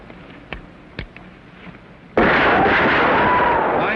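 Gunshots during target practice in a classic western TV episode: a couple of faint pops followed by a loud, sustained burst of blasting noise that holds to the end.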